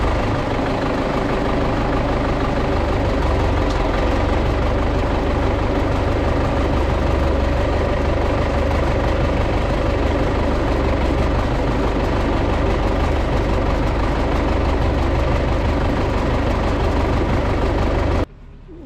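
An MTZ tractor engine idles with a loud, steady low rumble close by for nearly the whole stretch, then cuts abruptly near the end.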